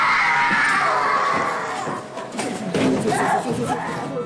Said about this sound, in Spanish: Estos escalofriantes gritos no son parte de una escena clásica de una película de terror